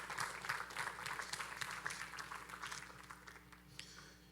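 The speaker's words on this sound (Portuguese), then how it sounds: "Uma salva de palmas." An audience at a church youth-ministry gathering applauds, a soft, fairly distant patter of many hands that holds steady for a few seconds and then slowly thins.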